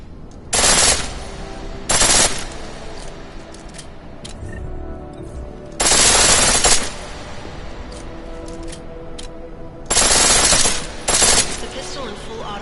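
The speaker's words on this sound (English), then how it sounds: "The pistol in full auto will take down targets fast" A pistol on full auto in the Deus Ex video game rips off several loud, crisp bursts of rapid shots with brief quiet gaps between them.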